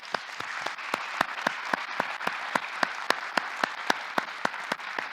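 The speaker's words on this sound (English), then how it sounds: "So just give Bob another round of applause." Audience applause for an honoree at a conference or gathering, a steady run of hand claps from a modest crowd, fairly close and even in pace, heard alone without talk.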